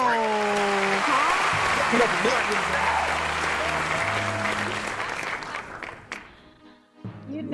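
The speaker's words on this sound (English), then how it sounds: "Clap it up for these black women out here." An audience applauds to welcome a guest onstage, with loud, dense clapping that holds steady for several seconds, thins out toward the end and sits under a person speaking.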